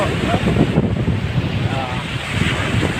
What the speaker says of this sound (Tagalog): sa lakas ng impact ng alon ng tubig tsaka ng hangin